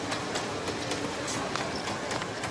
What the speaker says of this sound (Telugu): ట్రైన్ వచ్చినట్టుంది